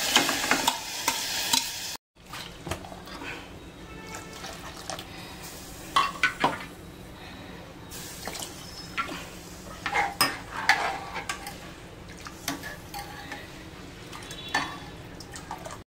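Cooked horse gram tipped into a pan and stirred for a kulith bhaji, with repeated scraping of a spoon against metal and soft sizzling between the strokes, close and fairly quiet.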